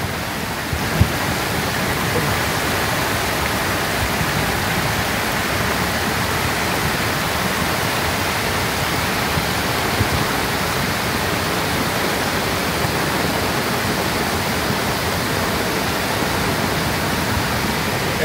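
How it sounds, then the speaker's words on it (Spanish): A flooding river rushes in a torrent during its biggest swell, a continuous broadband roar of churning water at constant loudness, close and enveloping, with no speech. "Esta sin duda es la creciente más grande que he visto yo de este río."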